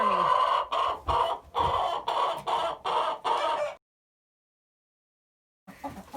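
Hens in a chicken coop cluck in a rapid run of short, loud, evenly spaced bursts, then fall silent before a faint cluck returns at the end.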